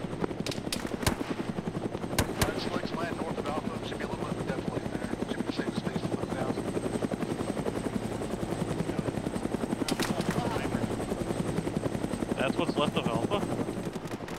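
Military transport helicopters in Arma 3 thud loudly and continuously as they come in to land, rotor chop dominating while scattered gunfire pops and radio voices talk over it.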